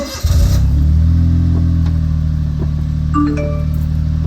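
A Honda Beat pulls away on a test drive, its small engine humming steadily and close after a brief start, with a few faint clicks and rattles over the drone.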